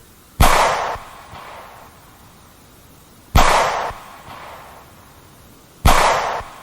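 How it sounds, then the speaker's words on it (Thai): Three loud, sharp gunshots boom one after another through a forest with gaps of a few seconds, each followed by a brief echoing decay. "เสียงปืนดังสนั่นป่า"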